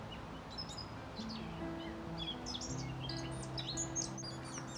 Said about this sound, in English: you hear so many different bird songs if you listen closely